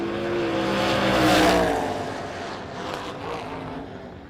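A Chevelle drag racing car blasts past at a drag strip, its loud engine roar rising to a peak and then fading into the distance.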